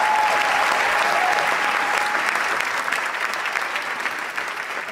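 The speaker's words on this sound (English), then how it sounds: "So if we can just give him a round of applause real quick." A live audience applauds a songwriter, steady dense clapping that holds loud throughout and eases only slightly toward the end, with no voices rising above it.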